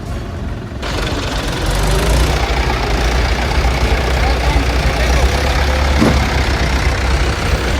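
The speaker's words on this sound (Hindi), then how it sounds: "अरे वो क्रेन है, वो अपने आप उतार देगी।" A crane truck's engine idles steadily while a motorbike is unloaded, a low continuous rumble close by with people talking over it.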